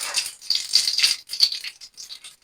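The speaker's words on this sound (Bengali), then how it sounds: "এবার আমি তেলে 5 ফোড়ন সম্বরা দিয়ে দেবো।" Five-spice panch phoron seeds hitting hot oil, a quick crackling, rattling sizzle of popping seeds in short bursts that fade within a couple of seconds.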